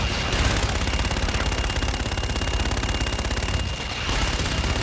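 Rapid continuous machine-gun fire in Call of Duty: Infinite Warfare, loud and close, rattling in long sustained bursts with a brief pause before resuming.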